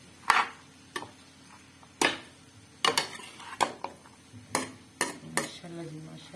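Aloo gobi curry stirred and mixed in a pot, a spoon knocking against the metal in a series of sharp, separated clinks and scrapes, with soft sizzling between them and a voice talking faintly underneath.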